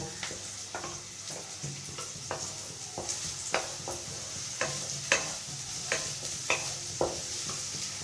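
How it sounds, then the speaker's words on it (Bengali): Onions frying in a pan for aloo paratha, with a soft steady sizzle broken by regular scraping stir strokes, fairly quiet and close. "পেঁয়াজটা একটু লাল লাল করে ভেজে নেব।"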